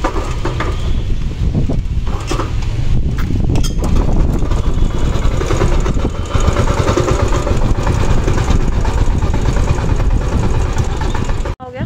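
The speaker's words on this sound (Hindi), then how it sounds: "इंजन के क्लच में से आवाज़ आ रही है" A motorcycle engine runs continuously nearby with a rough knocking rattle from the clutch, and faint voices in the background.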